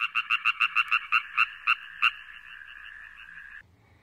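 A frog croaks in a rapid series of about a dozen short, loud pulses that slow toward the end, trailing into a sustained ringing tone before fading.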